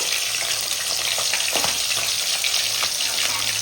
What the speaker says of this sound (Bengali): দেখুন বন্ধুরা মাছের 2 পাশে ভাজা হয়ে গেছে